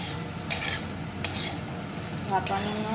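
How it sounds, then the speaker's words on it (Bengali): Chopped capsicum and vegetables sizzle steadily in a hot pan, with a few sharp scrapes of a spatula stirring them. "সবজিগুলো আমার প্রায় ভাজা হয়ে এসেছে"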